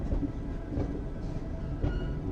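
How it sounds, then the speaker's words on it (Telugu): A train passes on the line toward Chennai near Katpadi, a faint, steady rumble with soft rhythmic wheel clicks heard from some distance, with no voices over it. "అక్కడ చూడండి ఒక ట్రైన్ వెళ్ళిపోతుంది టువర్డ్స్ చెన్నై"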